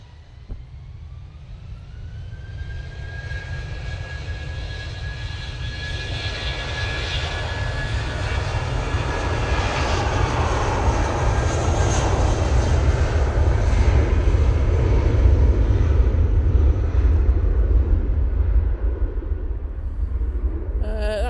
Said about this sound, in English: British Airways going off to London, mate.